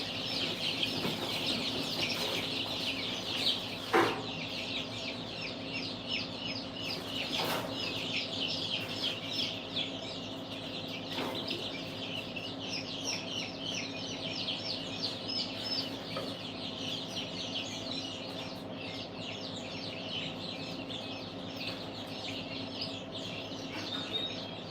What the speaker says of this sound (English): these are the other babies that was in there. And these are going to go in with the other guineas